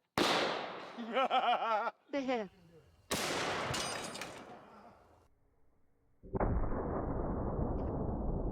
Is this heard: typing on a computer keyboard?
no